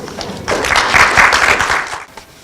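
Applause from a poetry book launch audience, a dense wash of clapping that swells then fades out over a couple of seconds.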